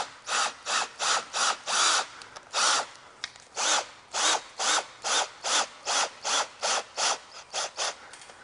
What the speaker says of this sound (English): you want to put the screw in at an angle to make sure that this really bites and grabs a hold of the roof decking